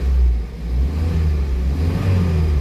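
A Toyota KE20 Corolla's OHV engine, second generation, revs steadily and close by with a deep, continuous drone that stays loud from start to finish, and no voices are heard.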